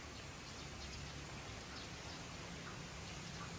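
Steady, dense rain pours down during a typhoon in a rural province, a continuous even hiss with no letup and no voices.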